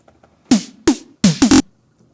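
Short bursts of the same sound clip repeated in quick succession, some raised in pitch, the last few stacked close together in a choppy, glitchy sequence.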